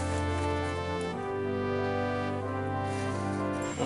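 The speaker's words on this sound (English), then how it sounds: "that's the sound of another incubator going in the background" Steady mechanical hum with a constant low drone and tonal harmonics, running evenly throughout without pauses, from an egg incubator running nearby.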